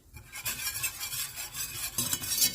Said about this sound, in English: And we're going to give this a good whisk.